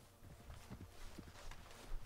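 Horse hooves walking in a video game, soft irregular clip-clop steps at a moderate distance, faint and low against a quiet ambient background.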